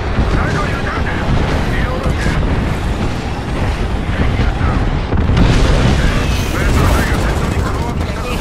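Airstrike in Apex Legends: dense, continuous booming explosions and gunfire rumbling loudly for the whole stretch, with a player's voice speaking over the barrage.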